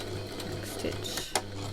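Sewing machine back stitching while making a face mask, a steady close mechanical whir with a low hum and a few sharper clicks near the end.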